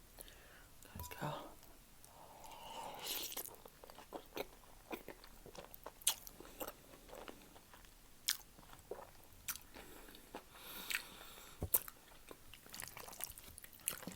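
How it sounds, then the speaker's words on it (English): Close-up biting and chewing of creamy baked feta pasta, soft wet chews and small crunches in an irregular rhythm, with quiet whispered speech at times. "And let's get into the pasta. Let's have a big bite."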